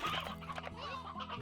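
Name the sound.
chickens clucking in video game Slime Rancher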